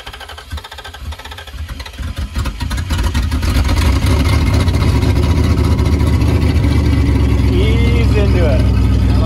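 A flooded Ford F-150 4x4 pickup engine cranks and catches, then revs up into a loud, steady roar that continues to the end, with voices talking over it.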